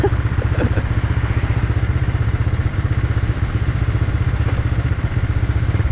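Yamaha Exciter 150 motorcycle ridden at speed, a loud, steady, close engine drone with a fast pulsing rhythm and wind rush that runs without a break throughout.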